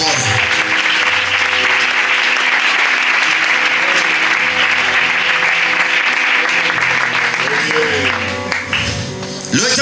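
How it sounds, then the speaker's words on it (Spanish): A church congregation applauds loudly in a steady, dense wave of clapping, with sustained musical tones underneath and a few voices rising near the end as it fades. "Dale un aplauso fuerte para él, por favor."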